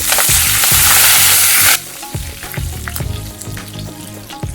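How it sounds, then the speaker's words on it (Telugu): Mustard seeds, cumin and curry leaves frying in hot oil. A loud burst of sizzle and crackle fades into quieter spluttering with repeated stirring scrapes, all close up. "ఆవాలు జీలకర్ర చిటపడతలు ఆడుతున్నప్పుడే కరివేపాకు యాడ్ చేసుకోవాలి"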